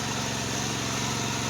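A tractor engine runs in a muddy paddy field during rice planting, a loud, steady, close droning rumble that holds its pitch throughout with no voices.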